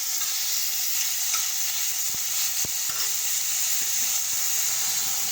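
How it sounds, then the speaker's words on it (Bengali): Chicken pieces for a chicken soup frying in butter produce an even, close sizzle with a bright hiss, and a few sharp clicks of a spoon against the pan cut through it. "এবার আমি এই চিকেনগুলো দিয়ে একটু ভাজা ভাজা করে নেবো"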